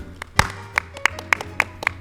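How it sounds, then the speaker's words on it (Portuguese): A few people clap during a church-themed podcast in a studio, producing about seven sharp, separate claps spaced unevenly over two seconds rather than a full crowd round. "salva de palmas"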